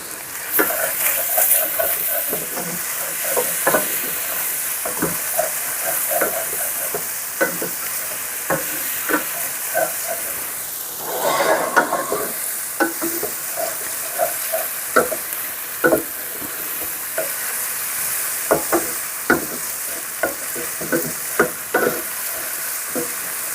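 Canned crab meat stirred into shrimp frying in a pan, giving a steady sizzle broken by frequent clinks and scrapes of a utensil against the pan, with one louder burst midway and no talking.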